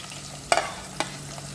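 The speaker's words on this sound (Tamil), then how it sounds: "7-8 சாம்பார் வெங்காயம், ஸ்லைஸ் பண்ணின 2 பெரிய சைஸ் வெங்காயம், 6 பச்சை மிளகாய் சேர்த்து இது வதங்கட்டும்" Shallots, sliced onions and green chillies sauté in hot oil in a pan, with a steady close sizzle broken by a couple of sharp stirring scrapes.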